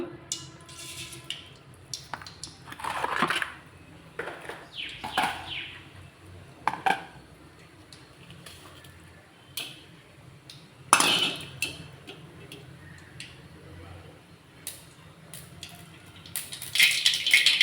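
Mustard seeds splutter in hot oil in a pan while mor kuzhambu is being made, with irregular sharp pops and crackles close by, a few louder bursts and quiet gaps between them.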